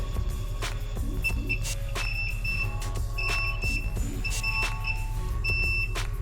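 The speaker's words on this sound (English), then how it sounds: "and we have a beep." Repeated short electronic beeps from a continuity tester ring out over a constant low hum, several tones spaced at irregular intervals.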